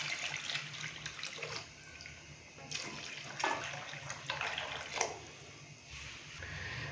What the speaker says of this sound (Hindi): अभी हम इसके अंदर यखनी डालेंगे।